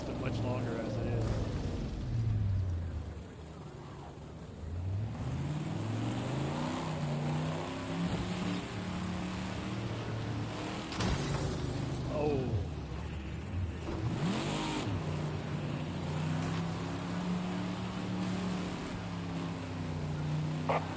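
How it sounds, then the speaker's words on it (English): A failing car engine revs and sputters unevenly throughout a demolition derby, its pitch rising and falling, with voices talking over it. "It looks like we've got a big problem with the engine."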